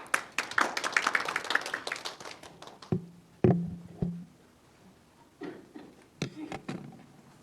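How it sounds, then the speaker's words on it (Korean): An audience at a policy debate forum on cutting plastic use in Gwangju claps after a presentation; the applause starts dense and steady, then thins into scattered, separate claps that trail off. "다시 한번 박수로 감사 표해주시면 고맙겠습니다"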